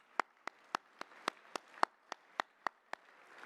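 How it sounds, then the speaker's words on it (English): Sparse clapping for high school coaches at a track and field awards presentation, about a dozen evenly spaced, faint single claps rather than full applause. "I'd like to give them a round of applause and recognize them."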